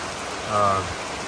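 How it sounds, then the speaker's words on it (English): Substantial rain falls steadily during an Appalachian Trail thru-hike, a constant close hiss on surfaces with a brief swell in the middle. "This is the first time in a while we've actually had substantial rains"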